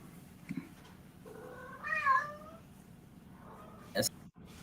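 A cat meows once, a drawn-out wavering cry over steady background hum, followed by a brief sharp sound.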